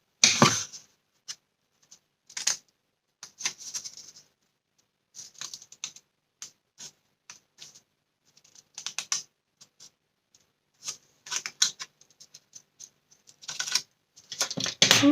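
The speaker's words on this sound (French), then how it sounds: "on va laisser la place ici et on va couper là" Paper being cut for a handmade Advent calendar, heard as short crisp snips and rustles in irregular bursts, close up and fairly quiet against a silent background, with no voices.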